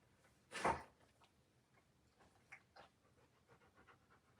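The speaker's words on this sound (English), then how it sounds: "Can you hear the dog breathing?" An anxious dog pants in a closed room, a loud burst of breathing up close followed by quieter, rapid panting breaths and faint ticking.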